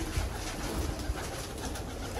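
Teddy pigeons cooing in a loft, a steady low murmur of soft coos under a busy, noisy background with no clear individual calls standing out.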